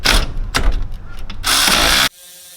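Ratchet wrench undoing the 12mm top alternator bolt on a Toyota Hilux, close clicking and grinding strokes for about two seconds, then a sudden drop to quiet, with no voices.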